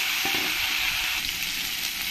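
Steady, close hiss of small-cut potatoes frying in hot oil with browned garlic, an even continuous sizzle with faint stirring underneath and no talk.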